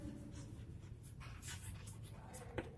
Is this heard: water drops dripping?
no